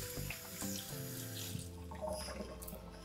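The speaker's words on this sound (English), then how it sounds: "put the water through, cover it with water" Tap water runs steadily into a big pot to cover fish bones for stock, a continuous splashing stream heard close and alone with no talk over it.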